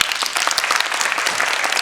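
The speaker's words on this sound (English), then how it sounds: "Big round of applause for that" Audience at a dance and drama event breaking into a loud, dense burst of applause, brisk and continuous from start to finish with no talk over it.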